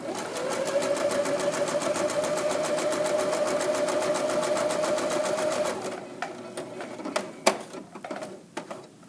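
A sewing machine stitches pillow-back fabric in a steady, fast, even chatter for several seconds, then stops, followed by a few sharp mechanical clicks and knocks as it is adjusted.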